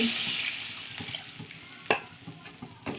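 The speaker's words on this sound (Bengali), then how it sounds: "এবার আমি দিয়ে দেবো পরিমাণ মতো ঝোল" Broth poured onto sautéed spice paste for a tilapia fish curry, a soft sizzle under scattered clinks and scraping stirs of a utensil in the pan, with a few sharper knocks near the end.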